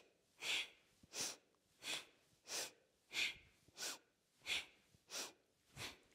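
Rhythmic yoga breathing, nine forceful nasal breaths at an even pace of about one every 0.7 seconds, close and breathy, with near silence between them.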